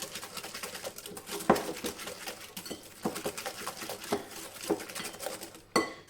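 A spoon stirs apple tart filling with vanilla sugar in a bowl, making steady scraping and clinking against the sides, close and moderately quiet, with occasional sharper knocks.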